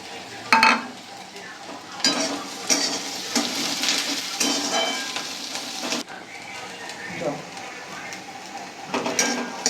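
Bata fish frying in hot oil in a pan gives a steady sizzle with periodic scraping stirs and clinks of utensil on metal, close and fairly loud throughout.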